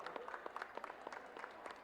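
Audience at a book-fair author talk applauds to welcome a guest, a soft, fairly distant patter of many hands with scattered sharper claps running steadily throughout.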